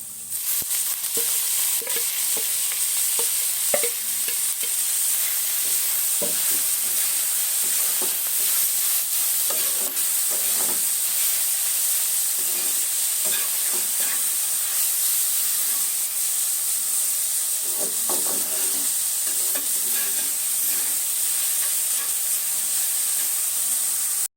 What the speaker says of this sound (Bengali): আমার পেঁয়াজটা প্রায় ভাজা ভাজা হয়ে গেছে এখন আমি এটার মধ্যে শাকটা দিয়ে দিব